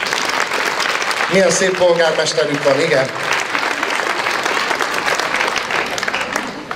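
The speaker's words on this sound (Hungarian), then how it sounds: "megérdemel egy tapsot." Audience at a Hungarian folk dance festival applauding in continuous clapping that fills the whole stretch, while someone talks over it partway through.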